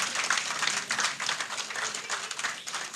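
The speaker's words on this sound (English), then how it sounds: "A round of applause for her, please." At a Ghanaian scholarship alumni launch event, an audience applauds a speaker with close, uneven clapping that rises and falls in bursts over a few seconds.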